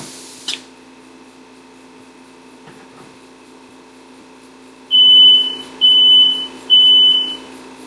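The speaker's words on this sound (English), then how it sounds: "And smoke alarms are on." A smoke alarm sounds three loud, piercing beeps in a steady rhythm after a few seconds of near silence broken only by a faint click.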